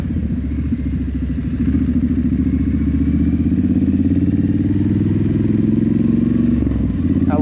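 Steady, throaty engine rumble of a Triumph Scrambler 900 motorcycle while riding through dark streets at night, loud and close, holding an even pace before easing off near the end.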